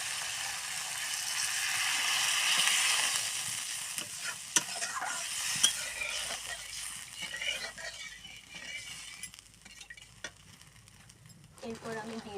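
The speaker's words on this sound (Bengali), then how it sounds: "এবারে জল দিয়ে দেবো।" Water is poured into a spice masala frying in oil for a bean dish, giving a loud, steady sizzle that slowly settles while a spoon scrapes and stirs with a few sharp clacks against the pan.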